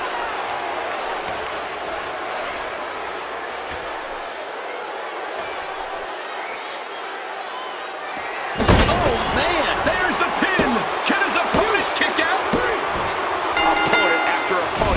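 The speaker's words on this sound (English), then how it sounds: "And he slams right into that exposed turnbuckle." In the WWE 2K14 wrestling video game, a wrestler crashes into an exposed turnbuckle with a sudden loud impact that cuts through steady crowd noise, followed by a rattling burst of thuds and clatter.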